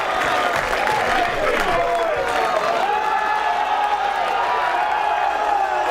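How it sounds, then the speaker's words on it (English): A packed darts crowd at the 2020 World Championships roars with sustained applause and cheering, a dense continuous wall of clapping and shouts that stays loud throughout, with speech faintly mixed in. "look at that response from the crowd just for one leg"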